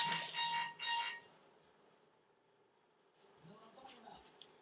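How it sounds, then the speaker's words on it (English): A shrill electronic alarm sounds in two short bursts, then fades to quiet room noise with faint scattered beeps and clicks. "And there goes the alarm."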